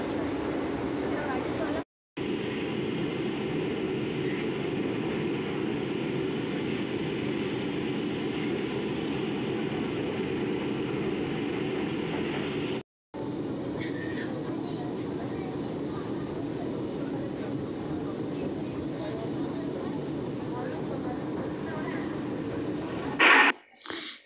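Steady rumbling drone of a metro train ride heard from inside the carriage, continuous and fairly loud, broken by two brief dropouts and a short bump near the end.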